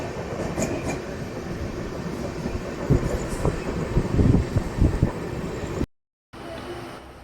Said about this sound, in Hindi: ये हमारी एक लोकल ट्रेन के साथ क्रॉसिंग हो रही है एक स्टेशन पर